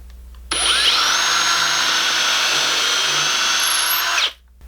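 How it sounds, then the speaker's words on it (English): Power drill boring a hole into wood: a single steady high whine starting abruptly, holding evenly for about four seconds close and loud, then cutting off, with no talking. "proceed to drill the hole into the wood"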